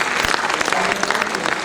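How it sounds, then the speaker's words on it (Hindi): Brief burst of audience applause at a literary honours ceremony, dense, close clapping running throughout with a faint announcer's voice beneath. "एक बार तालियों के साथ अभिनंदन बंधन आदरणीय"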